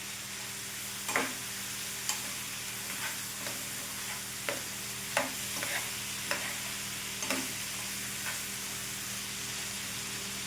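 Garlic potato chips cooking over a low flame in a pan, a soft steady sizzle with occasional stirring scrapes and clicks at irregular intervals, fairly quiet and with no voices.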